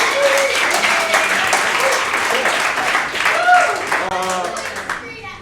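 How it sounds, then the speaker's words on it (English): Audience applause at an improv graduation show, a dense sustained wash of clapping from a crowd with cheers and voices mixed in, steady throughout before tapering slightly at the end. "So give yourselves a round of applause."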